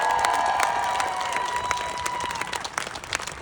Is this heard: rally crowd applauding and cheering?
yes